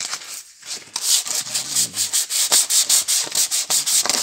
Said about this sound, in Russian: И такими вращательными движениями снимаем старую краску.